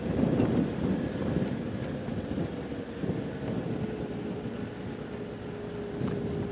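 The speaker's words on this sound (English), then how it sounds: "Today's just one of those days that are just going to be overcast and a bit blustery" Blustery wind on an overcast morning in the Sabi Sands blows steadily, buffeting the microphone with a low rumble that gusts strongest at the start and then settles into a softer, continuous rush.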